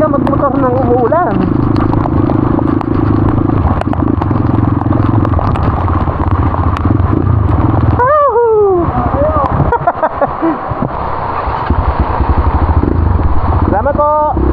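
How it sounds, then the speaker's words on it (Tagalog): A motorcycle ride through heavy typhoon rain on the way to an abandoned mine site, with a loud, steady close engine drone and broad wind and rain hiss throughout, and brief voices breaking in near the start, middle and end. "Actually masarap talaga magmotor ng umuulan."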